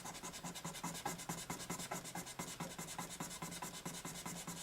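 Sandpaper is rubbed back and forth over a rosewood guitar fretboard. The close, steady rasping strokes repeat in an even rhythm of about eight per second, with no talking.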